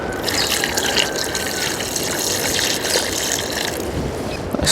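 Water splashes and churns continuously as green breadfruit is dropped into a full pot of salt water outdoors, with a brief louder splash near the end.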